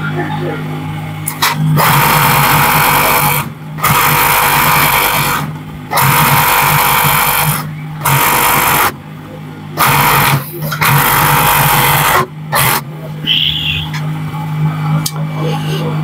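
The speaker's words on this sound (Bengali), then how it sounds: "এই মার্ক বরাবর আপনি ওভারলক মেশিন দিয়ে কিন্তু এটা ফিটিং করে নেবেন" Overlock sewing machine stitching trouser fabric, loud steady whirring runs broken by short pauses, repeated over and over, with occasional talk over it.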